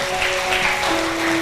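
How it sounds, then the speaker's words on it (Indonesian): Congregation applause at a GBI Pelita Medan church service: a steady, dense wash of clapping that fills the room, with a sustained keyboard note held underneath. "Beri tepuk tangan yang terbaik."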